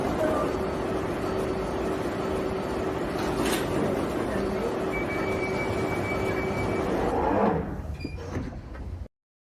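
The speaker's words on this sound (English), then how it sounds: "Mind the gap between the train and the platform." London Underground train standing at a platform, a loud steady rumble with hiss and a sustained tone, ending in a sharp door or brake noise before cutting out.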